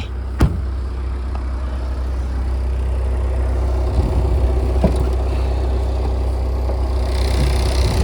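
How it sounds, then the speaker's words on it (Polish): A cold Opel Grandland X 2.0 engine with an automatic gearbox idles steadily, a low, even hum with a constant drone and a sharp click near the start. "Silnik jest zimny, natomiast pracuje równo, tak jak być powinno."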